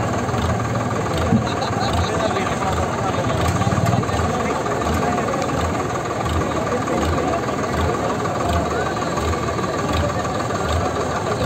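A tractor engine runs at a tochan tug-of-war contest. Its steady, chugging thrum carries on throughout, partly under voices and crowd noise.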